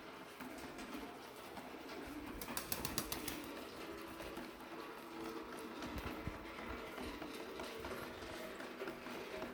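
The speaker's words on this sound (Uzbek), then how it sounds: "Mana kaptarlar." Pigeons cooing in a rainy spring yard, a soft, continuous murmur over steady background noise, with a brief burst of fluttering wings or clatter near the middle.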